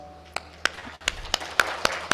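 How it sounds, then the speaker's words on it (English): Conference audience applause in a hall, heard as a series of sharp, spaced claps over low room hum, fairly quiet and scattered rather than a full ovation. "let that applause continue"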